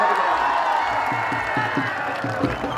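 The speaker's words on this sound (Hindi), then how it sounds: "ताली मारो तो" A crowd at a wrestling dangal claps and cheers steadily, a dense wash of applause with a rhythmic clap pattern running through it and voices mixed in.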